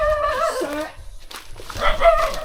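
Dogs on a rural farm plot in the Philippines give a few barks and whimpering yelps close by, with people talking around them and a rooster-like call in the mix.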